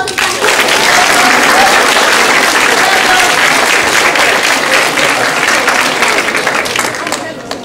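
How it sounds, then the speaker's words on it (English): Loud, continuous applause from a school assembly audience of Year 11 leavers, dense clapping sustained for about seven seconds before tapering off slightly at the end. "can you give yourselves a round of applause?"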